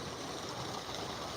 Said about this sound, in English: this is a small little waterfall right here.